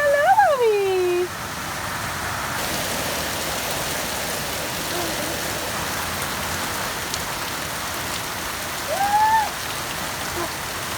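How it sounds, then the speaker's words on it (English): Heavy rain pours down onto a flower farm in an Australian sun shower just after a thunderclap, a dense, steady hiss of drops drumming on surfaces that fills the whole stretch, with a few bird calls cutting in at the start and near the end. "We just had this big crack of thunder and suddenly the rain just bucketed down"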